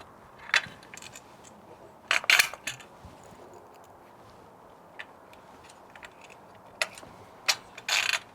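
A hand ratchet tightens two bolts through a rally kit tower mount clamp on a Honda CRF450L, producing short bursts of close, crisp clicking separated by pauses, with no talk.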